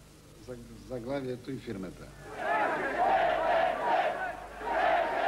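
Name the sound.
huge opposition crowd chanting at a rally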